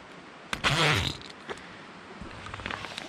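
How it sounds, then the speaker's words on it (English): Zippers drawn open along the back of a soft truck bed topper on a ZR2 Colorado, one long rasping pull followed by a few shorter tugs, close and fairly loud, with no talking. "So I'm gonna do these zippers here."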